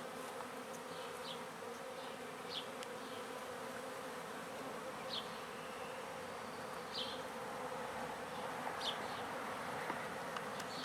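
Honey bees in a swarm trap, working to clean honey out of white comb, hum and buzz steadily at close range, with individual bees flying past now and then.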